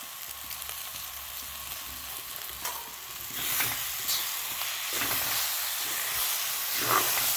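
Washed broken wheat (dalia) sautéing in a pan with sugar added, a continuous hissing sizzle that grows louder and steamier partway through, with occasional stirring scrapes.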